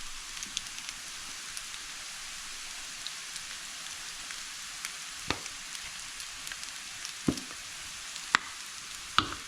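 Garlic added to a pan of chicken chow mein hisses in a steady, moderately loud sizzle of fine crackles and pops, with a few sharper clicks of stirring scattered through it and no talking.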